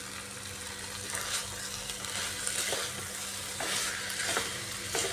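Vegetables with a spoonful of sugar and slit green chillies sauté in a pan for a pointed gourd (potol) and mung dal dish, giving a steady close sizzle with a few soft stirring scrapes.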